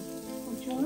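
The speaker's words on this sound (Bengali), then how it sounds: "প্রথমে রসুন কুচি দিলাম, বেশ খানিকটা রসুন" Chopped garlic sizzling in oil in a frying pan, a steady soft hiss with a brief rise in crackle near the end.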